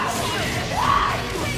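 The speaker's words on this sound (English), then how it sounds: "someone is hella screaming in the crowd." One person in a tournament crowd lets out a loud, sustained yell with a rising pitch, rising over the steady roar of the audience at a UNIST fighting-game match.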